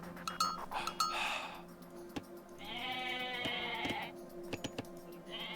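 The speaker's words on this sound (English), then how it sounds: "Take all those sheep and send them here." Sheep bleat in the video game Age of Mythology: Retold, several short clear bleats, one drawn out, over faint game clinks and ambient sounds.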